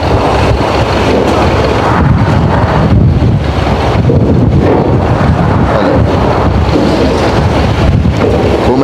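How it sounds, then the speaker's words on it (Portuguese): Strong wind sweeps across the Rio Negro at the Porto da Ceasa in Manaus as a ferry docks, a steady, loud roar buffeting the microphone throughout with no voices. "Começa a ventar e é assim"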